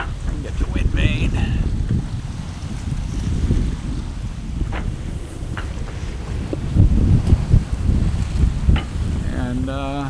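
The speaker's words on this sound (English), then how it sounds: "Sailing on a nice broad reach." A sailboat runs on a broad reach in steady wind at sea, with loud, continuous wind rush and water noise around the hull, some creaks and rigging sounds, and faint voices in the background.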